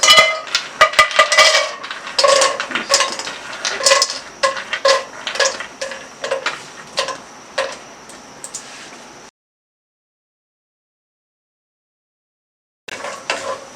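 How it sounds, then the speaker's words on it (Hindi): Cashews frying briefly in a small amount of hot oil in a pan for Afghani Kabuli beef pulao, with dense crackling sizzle and clinking stirring taps for several seconds, then a pause of silence before the sizzle returns. "चंद सेकंड्स के लिए नट्स को फ्राई किया, देखें काजू का रंग हल्का सा बादामी हो गया"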